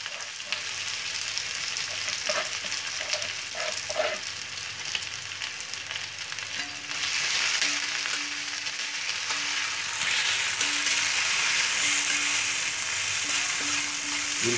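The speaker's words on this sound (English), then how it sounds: "We'll fry the onion" Chopped onion fries in a tablespoon of olive oil, giving a dense, steady sizzle with soft stirring scrapes. About halfway through, the hiss swells louder and brighter and then stays constant.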